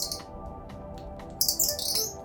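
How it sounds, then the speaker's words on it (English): A handheld bird call device chirps indoors in short, high twittering bursts, a few scattered peeps at first and then a louder run of chirps near the end. "It's a bird call. Not only does it call birds, it also annoys your family."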